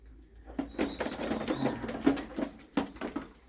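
Soft, repeated cooing of pigeons, several low throaty calls over rustling and light background patter, fairly close.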